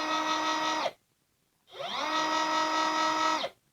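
Ryobi ONE+ HP 18V brushless cordless compact saw (PSBCS02 / RCT18C-0) running with no load in two bursts, each a steady high whine that spins up quickly and cuts off, with a short silent gap between them.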